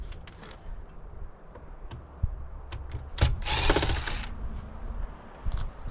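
Screws are removed from an ice maker being stripped for scrap copper: scattered small clicks and taps of tool on metal, then a louder whirring burst of a powered driver lasting about a second.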